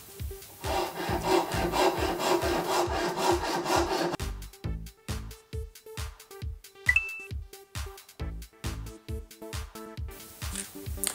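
A handsaw cuts through a wooden gauge arm to shorten it, with loud, close rasping strokes in a fast, steady rhythm. The strokes become more widely spaced and distinct partway through.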